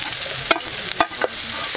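Mashed potatoes stirred into spices frying in ghee, a steady hiss broken by three quick spatula scrapes close by.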